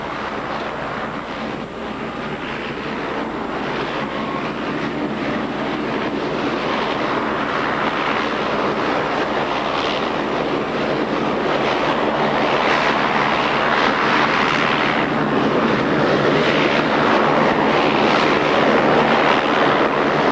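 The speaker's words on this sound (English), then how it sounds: "Those propellers reversed, of course, we can back the airplane up." Propeller airplane with reversed propellers backing up at an air show, a loud, steady broadband roar of engines and prop wash that swells slightly and holds throughout with no pauses.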